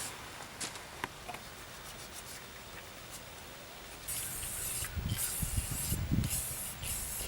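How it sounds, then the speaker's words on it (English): Bursts of aerosol clear coat spray hiss out in short pulses, preceded by quieter rubbing and handling noises close by. "I'm going to take a clear coat spray poly that will go over oil"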